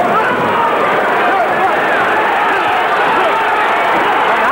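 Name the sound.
boxing crowd roaring at Holyfield vs Dokes fight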